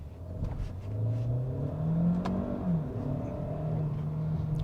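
A Kia Seltos SUV engine revs and climbs under acceleration, its tone rising and dropping at a shift before pulling again, heard from inside with a steady low rumble.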